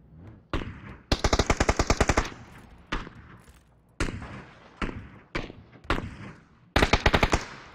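Gunfire in PUBG, including a Kalashnikov-style rifle, with loud bursts of rapid automatic fire and scattered single heavy shots in close, punchy succession.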